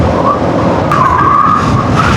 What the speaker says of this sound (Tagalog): Grabe lakas ng tinatangay tayo ng hangin.